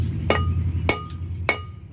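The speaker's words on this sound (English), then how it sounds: "just take your hammer" Three sharp metallic hammer blows crimp a steel ferrule shut on a beaver and coyote snare cable, spaced irregularly and close, with ringing clinks over a low hum.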